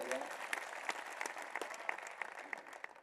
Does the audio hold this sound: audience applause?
yes